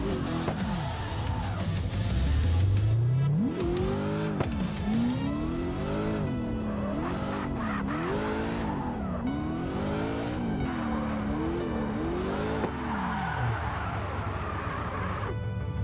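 Simulated car engine from the street-racing game CarX Street, tuned to 800 horsepower and driven with a direct-drive wheel, revs hard in repeated rising-and-falling sweeps as the car drifts through late-night donuts, loud and continuous with a tire squeal.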